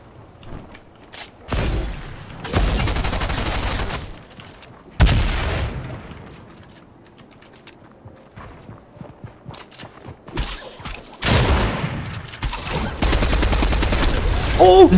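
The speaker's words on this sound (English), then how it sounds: "I'm gonna have to hit him with the harpoon gun and then just SMG him." Video game gunfire from a harpoon gun and an SMG, several loud bursts of rapid shots separated by quieter gaps with footsteps and faint clatter.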